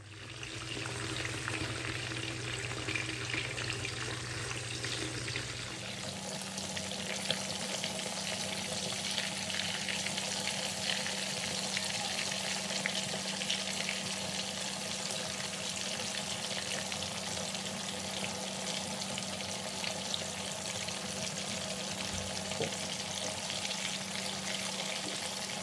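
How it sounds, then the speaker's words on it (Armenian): Milk pancakes fry in a generous amount of vegetable oil with a continuous, even sizzle and crackle that carries on alone, growing slightly denser after a few seconds. "Ահա, սպասենք թող մի կողմից տապակվի եւ շրջենք։"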